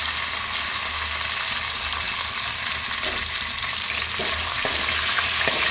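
Fenugreek powder fries in hot oil in a pan while an Andhra-style goat tripe and gongura curry is being cooked, giving a dense, steady sizzle with scraping stir strokes near the end, close up and with no voices.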